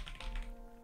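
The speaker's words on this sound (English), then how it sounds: "this keyboard, my drop alt, is tactile. You can hear the difference." Brief burst of typing on a Drop Alt mechanical keyboard with tactile switches, a quick run of close, crisp keystrokes heard alone.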